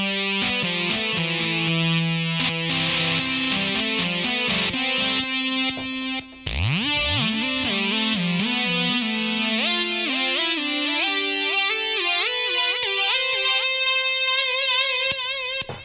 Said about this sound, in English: slap on some distortion and some delay